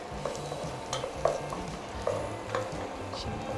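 Tomato paste and pepper paste sautéed in a pan, with rhythmic spoon stirring scrapes and light clinks over a soft, steady sizzle, close and moderately loud.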